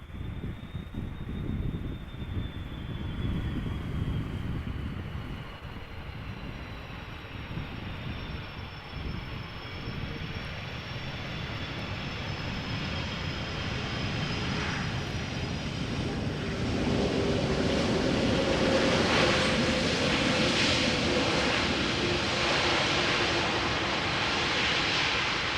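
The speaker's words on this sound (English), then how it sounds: "hopefully this time round the A330 will make a bit more noise" An Airbus A330-300 airliner at Amsterdam Schiphol rumbles by at a distance, a broad, steady engine roar with a faint high whine that swells gradually toward the end, outdoors with light wind.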